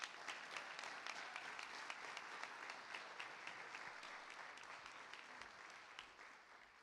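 Sustained applause from an audience welcoming new National Honor Society inductees at Maynard High School, a steady wash of many hands clapping that holds for the full stretch and fades slightly near the end.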